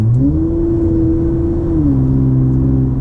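A 301 hp Toyota Camry XSE V6 accelerates with a deep, steady exhaust drone that holds its pitch and then steps down as the revs shift, loud and close with no talking.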